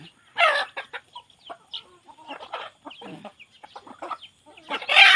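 Fighting roosters, a bred game-cock strain, cluck in short scattered calls with quiet gaps between them, close by, with louder bursts near the start and at the end.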